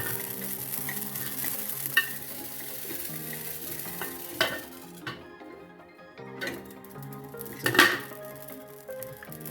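Amaranth (rajgira) grains roast in a pan with crackling, scraping stirs and clinks of a utensil against metal, over soft background music with a brief quiet gap.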